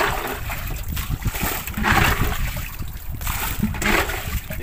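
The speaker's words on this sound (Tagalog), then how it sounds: "Kailangan ng kailangan natin magbawas ng tubig kasi" Water is scooped and splashed out of a leaking fishing boat, with repeated bursts of sloshing and splatter over a steady background wash, close and fairly loud.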